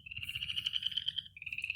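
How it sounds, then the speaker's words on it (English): Frogs croak outdoors in a steady, high, trilling chorus that runs almost unbroken with a brief pause near the end, moderately loud and close, with no talking. "You hear the frogs."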